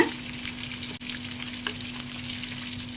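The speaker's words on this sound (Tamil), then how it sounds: "கடுகு நல்லா பொரியுது" Mustard seeds and cumin splutter in hot oil for a Tamil buttermilk curry tempering, a steady close crackle with scattered pops, a brief dropout near the start and a constant low hum underneath.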